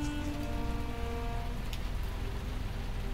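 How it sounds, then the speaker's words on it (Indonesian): Heavy rain pours steadily as a radio drama sound effect, a dense continuous hiss with a low rumble, alone and with no voices. "hujan turun cukup deras saat itu"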